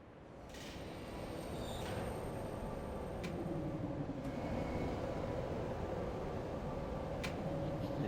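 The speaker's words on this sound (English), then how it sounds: "And this is the tram." A futuristic tram in the puzzle game Riven glides in, a steady low rumble and whir that swells over the first two seconds and then holds level, with faint high tones and light mechanical clicks on top.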